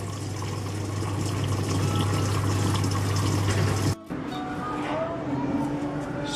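A Samsung top-load washing machine filling its tub with water during an eco tub clean cycle: a steady rushing pour over a low motor hum that drops out briefly, then continues with splashing.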